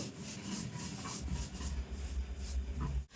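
Mustard seeds are ground into powder on a stone grinding slab, giving a continuous, close, gritty rubbing and scraping with a rhythmic back-and-forth texture that stops abruptly near the end.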